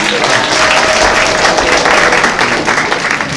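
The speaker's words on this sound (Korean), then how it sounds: "여러분 박수 한번 부탁드리겠습니다." Wedding guests at a convention wedding hall in Incheon break into loud, sustained applause, a thick wash of many hands clapping close by.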